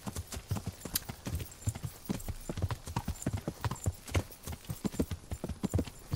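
Steady, rhythmic clip-clop of horse hooves while riding in the medieval video game Kingdom Come Deliverance, a close, continuous trot with no voices.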